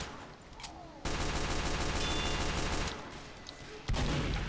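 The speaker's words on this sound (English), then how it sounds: "So I'm going to take this opportunity to pistol this guy's sentry gun" Rapid pistol shots hit a sentry gun in the video game Team Fortress 2, a dense run of loud close shots that stops briefly near the end and then resumes.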